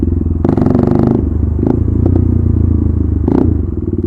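A modified KTM Duke 390 rumbles close and loud on a night ride, its steady low idle broken by two sharp throttle blips and a few quick pops, with no talk over it.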